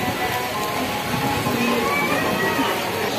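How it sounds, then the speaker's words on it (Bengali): Heavy rain pours steadily at a Hindu temple, Baba Pataleshwar, during a monsoon downpour with a crowd sheltering inside; a dense, continuous hiss of rainfall fills the space, with faint background voices murmuring beneath it. "প্রচন্ড বৃষ্টি পড়ছে, সবাই বসে আছে"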